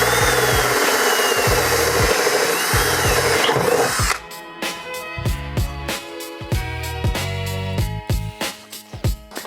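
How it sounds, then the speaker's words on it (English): A power drill runs a countersink bit into metal while rocker armor is fitted to a Jeep Gladiator, a loud continuous drilling whine for about four seconds, followed by a series of short tool bursts and clatter. "I'll just use the countersink for the center."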